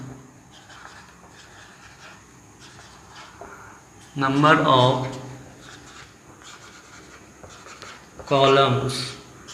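Pen or chalk scratches across a surface as a Class 10 maths solution is written out, faint and intermittent under a man's louder spoken explanation in Hindi.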